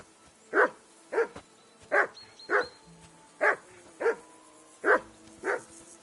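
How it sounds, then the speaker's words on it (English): A dog in Kingdom Come: Deliverance 2 barks eight times at steady intervals, moderately close, with faint background ambience between the barks. "That barking was a pain in the ass."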